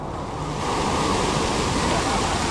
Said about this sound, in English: That bucket is about to tip, I think.